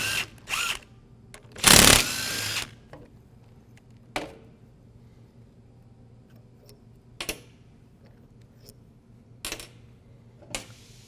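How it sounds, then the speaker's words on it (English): A 13 mm socket backs out the pump bolts on a SnowDogg snow plow, giving short bursts of ratcheting clicks, one louder and longer, separated by quiet gaps with faint taps. "Next, I'm going to take a 13 millimeter socket and take out the bolts for the pump."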